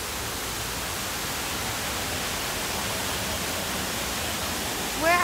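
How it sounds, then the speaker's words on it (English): A steady, dense rush of falling water from a waterfall at Busch Gardens theme park fills the scene, loud and unbroken from start to end. "There's like waterfalls and stuff."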